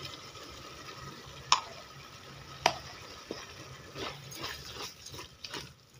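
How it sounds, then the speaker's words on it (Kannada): Egg pepper masala sizzles quietly in a pan as it is stirred, with two sharp spatula clacks against the pan early on and then a cluster of softer scraping strokes over a low frying hiss. "ನೋಡಿ, ಮಸಾಲ ಚೆನ್ನಾಗಿ ಫ್ರೈ ಆಗಿದೆ."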